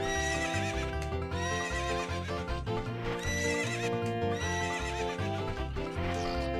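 A horse whinnies and neighs repeatedly over a steady clip-clop of galloping hooves in Ocarina of Time, with game music and effects layered underneath and no talking.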